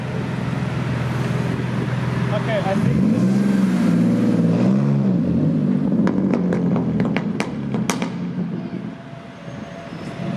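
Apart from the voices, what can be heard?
sports car engine revving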